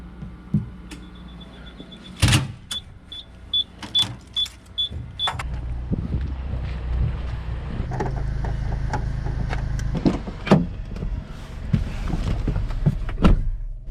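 A Chevrolet Traverse SUV at a car dealership, with a door thunking shut, a power window whirring, then the engine idling steadily and clicking mechanisms as it is pulled around.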